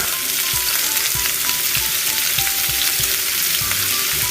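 Garlic and onion frying in a pan, a steady dense sizzle with occasional soft stirring knocks, close and continuous with no talking.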